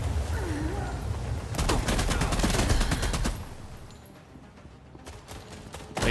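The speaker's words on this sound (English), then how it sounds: "The explosions are great." A sci-fi battle in The Expanse: Osiris Reborn brings a rapid burst of loud gunfire and blasts that then drops away into quieter rumbling ambience, with a voice briefly heard.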